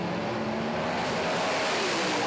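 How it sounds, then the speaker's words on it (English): Aeroflow Outlaw nitro funny cars roaring down a drag strip in Perth, a sustained loud engine drone with a steady pitch that blends into broad crowd and track noise throughout. "That is the Aeroflow Outlaw Nitro Funny Car Show"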